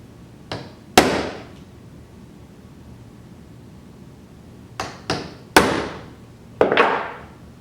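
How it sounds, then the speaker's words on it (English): Sharp metallic taps of a center punch on a metal workpiece ring out in two groups: a pair of quick strikes, a long pause, then four more hits, each loud and near with a brief decaying ring. "get a little punch and just kind of punch my work to make it easier for the drill to stay on the mark"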